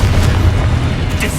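A Confringo explosion spell goes off in Hogwarts Legacy as one loud, booming, rumbling blast that fills the whole short moment.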